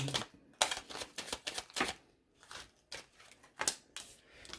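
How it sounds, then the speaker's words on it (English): A deck of tarot cards is shuffled by hand in quick repeated bursts of close, crisp papery riffling and slapping, rising and falling in an uneven rhythm with brief pauses between. "1 more shuffle"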